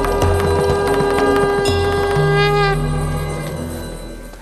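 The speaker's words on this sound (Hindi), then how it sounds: "चलिए, शंखनाद हो गया" A conch shell blown during a televised astrology show segment: a loud, sustained, bright horn-like tone with strong overtones, rising and wavering in pitch, then fading slowly, with no talking over it.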